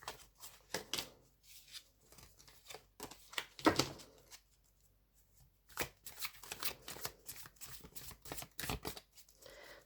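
Tarot cards, a Thoth deck, shuffled by hand in repeated bursts of crisp riffling and flicking, close and fairly quiet, with a short pause midway and no talking.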